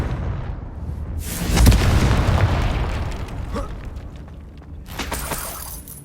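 A Confringo spell explosion in Hogwarts Legacy, a loud booming blast with a crackling, rumbling tail that fades over a few seconds before a second, lighter burst near the end.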